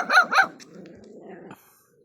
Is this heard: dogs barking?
yes